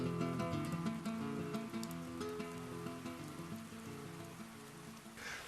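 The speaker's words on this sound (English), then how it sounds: "It's pouring with rain out there, but we're dry in here." Heavy rain pours down just outside a rock overhang, a steady dense hiss of drops hitting the ground with a broad continuous wash, and low background tones run underneath.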